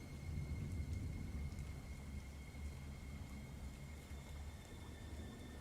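Rain and thunder ambience: a faint, steady wash of rainfall with a low, rolling rumble that swells early and then settles, with no voices.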